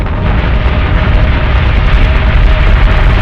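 A loud, dense rumble of explosions and weapon fire from a space battle in the Battlestar Galactica Deadlock video game, sustained and booming without letup.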